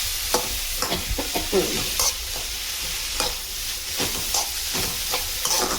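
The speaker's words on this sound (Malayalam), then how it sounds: "വഴറ്റുമ്പോൾ നല്ലോണം ഒന്ന് വഴറ്റി കൊടുക്കുക" Mushroom curry ingredients sautéing in a pan for a Kerala-style nadan koon curry, with steady close sizzling, frying and scraping stirs throughout, with no talking.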